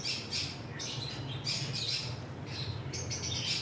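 Budgerigars in a pet shop in Islamabad chirp and squawk in repeated bright bursts over a steady low background hum, close and continuous, with no talk.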